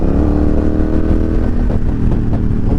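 A Honda Rebel 1100 DCT motorcycle's engine pulls hard under open throttle, a loud, close mid-pitched drone rising with a few quick automatic gear changes.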